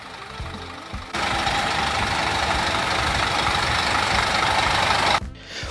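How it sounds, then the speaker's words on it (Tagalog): Steady, even drone of a Scania K410 sleeper bus engine running close by, rising after a brief quieter start and holding constant for several seconds before cutting down near the end, with no talk. "Ganito ngayon ang bagong engine ng Scania."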